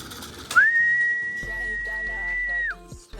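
A single long, steady whistle rings out for about two seconds to call racing pigeons, loud and close, with faint rustling and low background noise around it.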